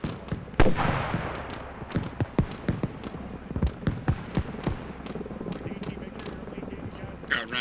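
Rapid sharp cracks and thuds of gunfire rounds striking close by in a military shooter game, irregular bursts spread across the whole stretch with voices talking underneath.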